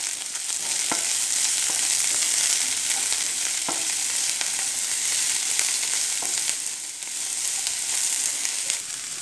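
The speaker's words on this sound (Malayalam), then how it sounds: "ഇതിലേക്ക് സവാളയും അതേപോലെ കറിവേപ്പിലയും കൂടി ചേർത്ത് കൊടുക്കാം ഇനി ഇത് നന്നായിട്ട് ഇളക്കി കൊടുക്കുക" Onion and curry leaves sauté in a pan for an egg thoran. A continuous close sizzle carries sharp spatula taps and scrapes as the mixture is stirred, with no talking.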